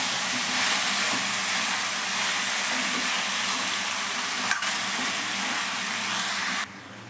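Brinjal with turmeric is stirred in a frying pan, giving a continuous close sizzle with soft scraping and one brief clink midway; no voices.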